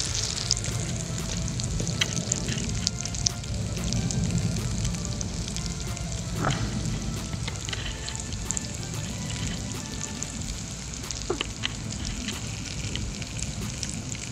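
Squid sizzling and frying in a hot pan while cooking outdoors, a steady crackling hiss running throughout with occasional sharper pops, close and fairly loud with no talk.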